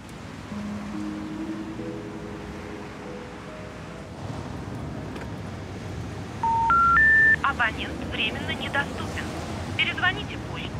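Over a steady outdoor rush, a phone call to an unreachable number: a tone sounds, then a short series of rising electronic beeps like phone keys or a network signal, followed by brief chirps.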